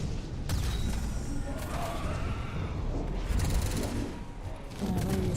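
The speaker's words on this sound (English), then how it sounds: "Horrible huskies is what we're shooting at." Sustained gunfire against husky enemies in Mass Effect 3, a dense, loud barrage of shots and metallic clatter with bursts of louder blasts running through the whole stretch.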